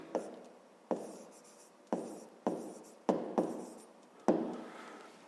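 A pen writes on paper during a 5th-grade maths exercise, in repeated strokes that each start with a sharp scratch and fade out, seven or so in a steady rhythm, close and clear with no talking.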